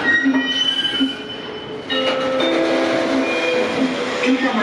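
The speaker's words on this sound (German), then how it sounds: "Einfahrt RB 23 von Nassau" Regional train RB 23 from Nassau rolls into Koblenz Hauptbahnhof, its wheels squealing in long, high metallic tones over a steady rumble of rail cars, close and loud throughout.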